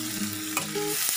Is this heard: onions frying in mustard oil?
yes